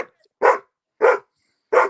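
Three loud, close dog barks sound one after another with short silent gaps between them, no talking over them.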